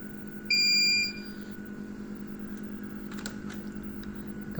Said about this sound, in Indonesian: Kalau PLN diturunkan, inverter akan alarm.